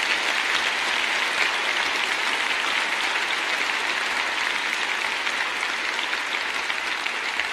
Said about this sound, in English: Big round of applause once again for Michael.